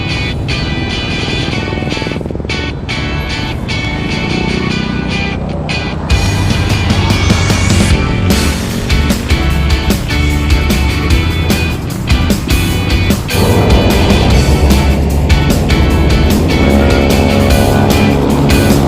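Road traffic idles and moves near a stoplight in Taytay on the route toward Teresa, with car and motorcycle engines rumbling close by, revving and passing in a continuous, loud wash.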